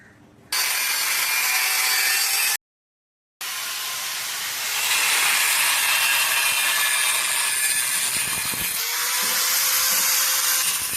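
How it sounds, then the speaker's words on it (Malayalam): A tool cuts the accumulator off an AC inverter compressor, giving a harsh, loud, continuous grinding rasp. There is a brief silent gap early on, then the cut carries on steadily, with a ringing metallic tone near the end. "ഇനി നമ്മൾ ഇതിൻ്റെ അക്യുമുലേറ്റർ കൂടെ കട്ട് ചെയ്യാൻ പോകുന്നുണ്ട്"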